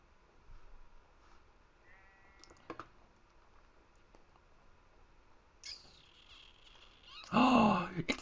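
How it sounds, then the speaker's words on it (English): A sheep bleating in Minecraft, a single loud bleat near the end following quiet game ambience, faint clicks and brief scattered noises. "Hey sheep, what's up?"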